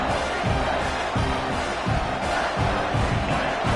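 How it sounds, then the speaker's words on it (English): A home crowd at a football game roars loudly and continuously, a dense sustained wall of cheering and shouting with rhythmic surges throughout. "Man, this crowd really affecting the football game."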